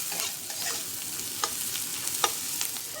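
Onions frying in a pan with a little turmeric and salt: a dense, close sizzle with soft, irregular stirring scrapes and small pops across a few seconds.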